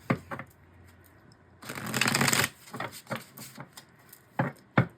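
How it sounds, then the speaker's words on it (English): Tarot cards are shuffled up close: a burst of rapid riffling flutter, surrounded by scattered taps and snaps of cards being handled. "let's give it one more shuffle."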